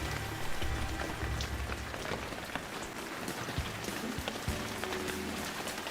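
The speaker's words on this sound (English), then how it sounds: "I mean, that rain is very noisy, isn't it?" Steady, dense rain falling and pattering on surfaces in a Shenmue III game scene, a continuous noisy wash of droplets with scattered sharper splashes, no talk over it.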